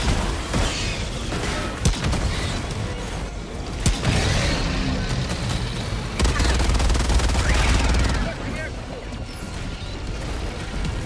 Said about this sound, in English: Is that barrage still popping off?